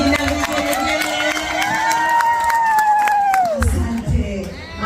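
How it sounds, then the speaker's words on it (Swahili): Wedding guests at a beach celebration cheer and ululate loudly, with one long high trilling call rising over a noisy crowd and some scattered clapping. "Makofi mengi na vigelegele."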